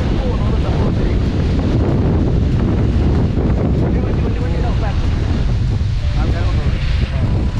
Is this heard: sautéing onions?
no